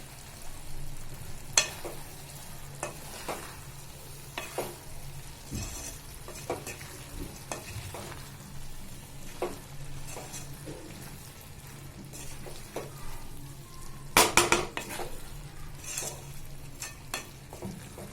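Chopped ridge gourd frying in a pan while being stirred: a steady soft sizzle with repeated scraping strokes and occasional sharp clinks of a spoon on the pan.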